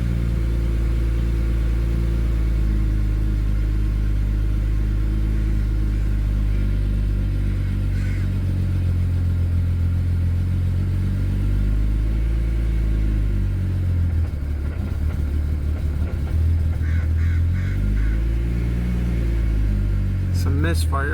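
A BMW 335i running E85 fuel with a tune, JB4 and two-step idles roughly after a cold start, a deep steady engine rumble with uneven misfire stumbles and slight revs near the end.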